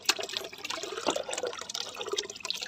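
Diluted liquid fertilizer water is poured onto garden plants, giving a faint, steady splashing and trickling that runs without a break, with no voices.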